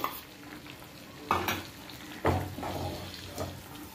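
An egg fries in butter and oil in a pan over high heat, a steady sizzle broken by three sharp scrapes and clatters of a utensil, close by with no voices.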